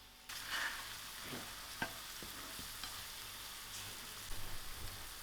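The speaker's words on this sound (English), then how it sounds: "my mushroom has released its liquid and it's starting to fry now" Shimeji mushrooms frying in a pan once their liquid has cooked off, a steady soft sizzle under light stirring and a few scrapes, close and fairly quiet, no talking.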